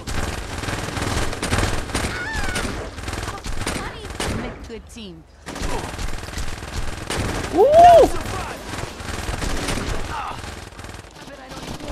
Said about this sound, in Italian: Mica dallo sparo sembra quello di Padrino 1.